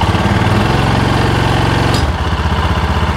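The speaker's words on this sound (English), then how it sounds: "let's just rev it up and see what happens here" A Cub Cadet Challenger 500 UTV with a clutch problem revs hard in neutral, its engine roaring loud and close with a rough pulsing throb that eases slightly toward the end.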